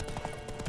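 Horse hooves galloping during a race in The Witcher 3: Wild Hunt, a quick, even run of muffled hoofbeats over a constant background bed.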